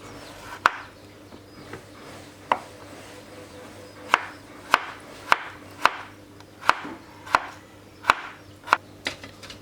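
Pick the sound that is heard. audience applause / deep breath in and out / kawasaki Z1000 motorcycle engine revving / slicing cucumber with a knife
slicing cucumber with a knife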